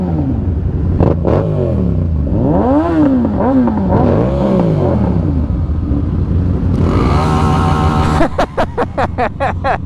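A stunt bike fitted with a 55-tooth sprocket revs up through the gears, its engine note sweeping up and down in repeated loud surges before ending in a quick, sputtering rattle.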